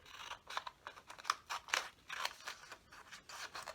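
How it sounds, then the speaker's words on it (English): Scissors cutting along a line of paper while making a paper plane: a steady series of crisp, close snips repeating about every half second, with no voices. "Then we take the scissors and hold the two cut ends together like this"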